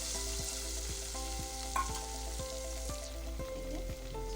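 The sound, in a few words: ground onion paste frying and being stirred in a pan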